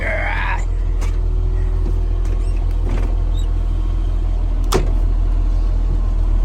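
A wheel loader engine idles with a steady low rumble throughout, with a few faint clicks and knocks over it, heard close and loud inside the cab.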